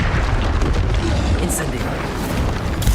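Hogwarts Legacy battle with a Confringo blasting spell erupting as a rumbling, sustained boom, loud and dense, with a couple of brief sharp pops over the roar.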